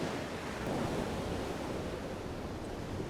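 Broad ocean surf washes steadily around a boat sailing open water in a video game, a continuous even roar of waves with a wind-like hiss and no voices.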